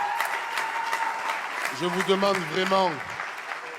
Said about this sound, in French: un tonnerre d'applaudissements pour Bali, mon frère